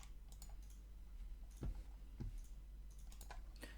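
A mouse clicks the OK button while someone works on a UX design prototype on a computer. Faint, sharp clicks sound over soft keyboard-like ticking in a quiet room, with two clicks standing out slightly from the rest.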